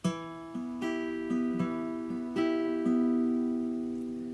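Plucked guitar notes ring out in a slow sequence of chords, each struck and left to sustain, clear and close with no voices.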